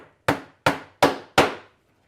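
Four sharp, evenly spaced hammer blows strike a leather hinged top laid on a solid workbench, each a loud, close impact with a quick decay, and there is no talking.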